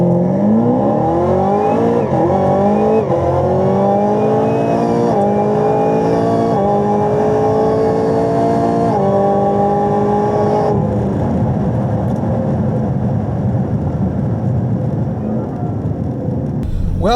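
An 850 rwhp Chevrolet Camaro launches hard at the drag strip, its engine screaming up through rising revs with sharp gear changes, loud and close for most of the run before easing off into a steady drone.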